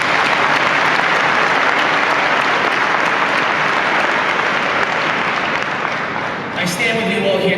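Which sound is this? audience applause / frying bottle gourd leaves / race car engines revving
audience applause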